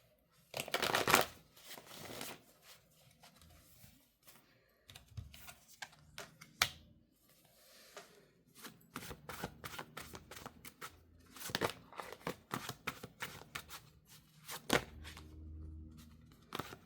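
A deck of tarot cards being shuffled nearby, with bursts of riffling and soft flicking clatter spread irregularly across the stretch, pausing between handfuls, with no talking.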